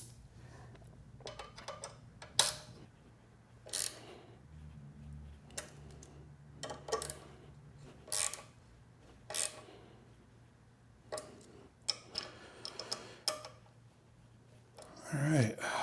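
Bolts being tightened with a hand tool on a Givi kickstand extender fitted to a Triumph Scrambler 1200 XE motorcycle: sparse, close ratcheting clicks and metallic ticks in short bursts against a low steady hum.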